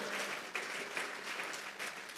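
A church congregation claps together in steady, continuous applause, a dense wash of hand claps that fills the space at moderate loudness with no talking.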